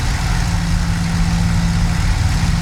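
A P-51D Mustang piston engine in a flight simulator game idles with a steady, loud, deep throb and a dense low rumble, continuous with no talk.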